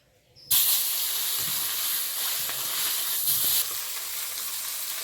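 Freshly caught pond fish, salted and rubbed with turmeric, sizzles loudly in hot oil in a wok, the steady crackling hiss bursting in after a brief quiet moment and continuing without a break.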